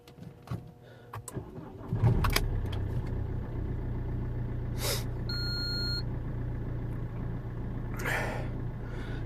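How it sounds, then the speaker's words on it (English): A 2007 Alfa Romeo 159 1.9 JTDM diesel with a fault cranks briefly and fires, then settles into a steady, close rumbling idle, with a few clicks and a short tonal beep during the run. "I'm going to start the engine, obviously, and see what we have in there"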